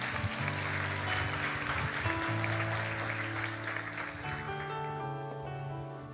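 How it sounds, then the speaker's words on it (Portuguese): Applause rises from a church congregation offering praise, a steady wash of clapping that fades as sustained music tones carry through toward the end. "Dê o melhor aplauso que você pode dar ao Senhor"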